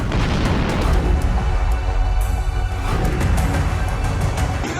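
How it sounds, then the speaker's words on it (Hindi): An explosion at an aluminium plant in Henan, China, captured in news footage as a loud, sustained roaring rumble with dense low-end boom, persisting without break and fading slightly at the end. "उसके बाद एल्यूमिनियम प्लांट में एक ऐसा धमाका हुआ मानो किसी ने एटम बम का टेस्ट किया हो।"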